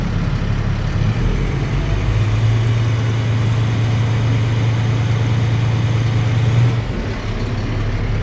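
A Class B truck engine held at a raised idle around 1,000 to 1,200 RPM during an in-cab air brake and parking brake test, a loud steady drone with a low hum that drops slightly near the end.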